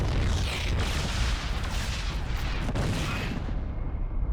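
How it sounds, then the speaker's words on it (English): Long-range Yamato cannon blasting a tower in StarCraft II: Heart of the Swarm, a heavy rumbling boom that rolls on for several seconds and then cuts off abruptly. "Fortunately, our long-range Yamato cannon deals even more."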